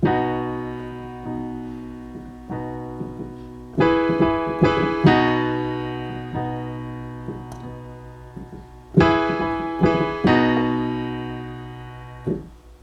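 Sustained piano chords struck in a slow rhythm, each ringing out and decaying before the next, with a few louder accented chords.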